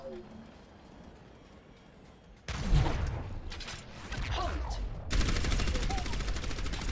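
Orisa's alternate fire in Overwatch in the training room: a sudden loud burst of weapon and projectile noise followed by rumbling, then a sustained rapid mechanical firing sound, with a voice talking faintly at the start.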